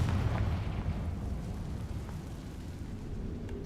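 In a closed mine resembling a tomb, a Confringo spell bursts with a deep rumbling boom that opens loud and settles into a sustained low roar, with no voices over it.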